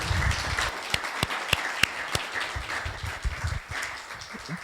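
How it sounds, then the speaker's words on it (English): A crowd applauds steadily at a fireside chat event, dense clapping with a few sharper individual claps standing out, moderately loud and sustained throughout. "Can we have one more round of applause for Chris Gladwin?"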